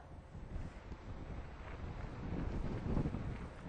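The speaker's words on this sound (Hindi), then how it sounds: "उसी हिसाब से यहाँ पे तेज हवाएं चल रही हैं" Strong winds from Cyclone Biparjoy at Okha port in Gujarat make a steady, loud broadband roar of wind buffeting the microphone, swelling slightly toward the end, with no voices.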